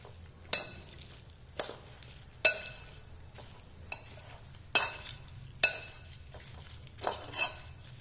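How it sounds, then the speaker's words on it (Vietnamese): A spoon stirs a mixture of sugar and salt in a bowl, giving about half a dozen sharp clinks spaced a second or so apart, close and fairly quiet, with near silence between strokes. "Mình sẽ trộn đều cái hỗn hợp này lên các bạn ạ."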